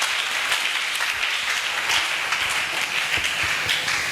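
Congregation clapping during a church worship service after a Bible reading, steady sustained applause from a crowd in a room, moderately loud and even, with no talking over it.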